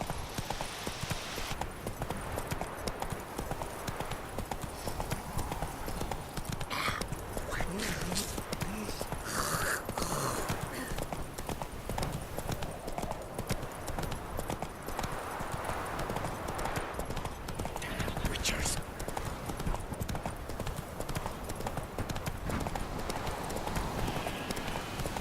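Roach, the horse in The Witcher 3: Wild Hunt, trots along with a steady, even clip-clop of hooves throughout, moderately loud, while game voices talk over it.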